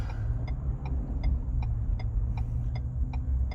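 A 2021-or-later Ford truck rolls along with a low, steady engine rumble, while a crisp ticking clicks at an even pace above it throughout.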